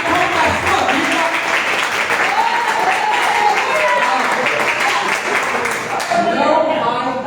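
A church congregation applauds the Lord during an evening service, dense continuous clapping mixed with voices filling the room for several seconds before dipping briefly near the end.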